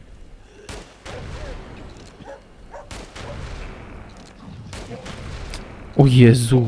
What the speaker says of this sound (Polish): Jak to pięknie wybucha!